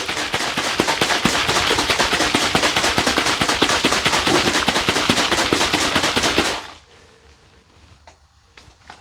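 A bottle of sugar and warm water shaken hard, giving a loud, fast run of sloshing rattles for several seconds before stopping abruptly into near silence.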